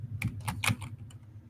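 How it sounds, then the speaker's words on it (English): Quiet, irregular keystrokes tapping on a computer keyboard during a live trading session, with a steady low hum underneath. "Typing September because I was thinking September."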